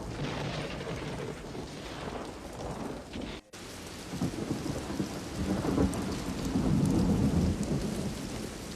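Heavy rain pours during a thunderstorm in the animated film Batman: Mask of the Phantasm, a dense steady hiss of raindrops with rolling thunder rumbles building and swelling after a brief cut.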